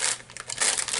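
A plastic snack bag from a United Kingdom snack box crinkles and crackles sharply as it is pulled open, a short close, dense rustle with no talking.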